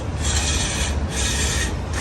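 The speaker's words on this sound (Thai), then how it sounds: "ตอนนี้ก็ได้ทำการเจาะนะครับ เจาะข้างหลังนะ" A drill bores into the rear panel of a motorcycle to mount a horn, a loud, close, steady grinding rasp in about three continuous pushes with brief dips between them.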